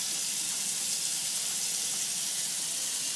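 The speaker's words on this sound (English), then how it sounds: "Rinse that meat." Tap water runs in a steady, close, broadband hiss while raw meat is rinsed in a kitchen sink, continuous and even with no talking.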